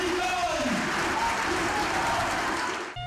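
Workers' Party supporters in a hall greet the party's acting chairman with sustained crowd applause, a dense continuous roar of clapping with a voice audible amid it, ending abruptly.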